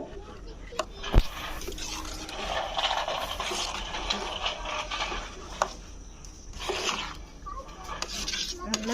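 Ragi flour mixture for ragi koozh is poured into a pot and stirred, with soft liquid sloshing, scraping and occasional clinks of a utensil against the vessel, while someone talks over it.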